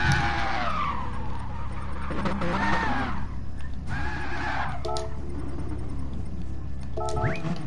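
Tyres skid and screech as a car drifts around other cars in a Gran Turismo racing game, the squeals rising and falling over steady engine noise with a few short bursts near the end.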